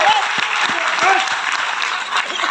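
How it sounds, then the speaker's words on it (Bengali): A seminar audience claps steadily and loudly throughout, a dense wash of applause with a voice faintly present underneath. "সুতরাং জোরদার তালিয়া দিন যে"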